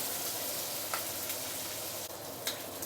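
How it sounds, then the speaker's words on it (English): Prawn shells sautéing over high heat in a wok give a steady, hissing sizzle. Faint ticks and scrapes come through now and then. "you want to use high heat to saute your prawn shell to really get the flavor out"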